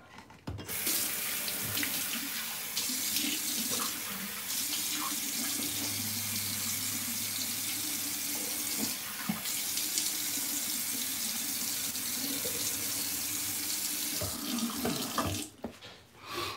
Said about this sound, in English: So I'm gonna wet my hair.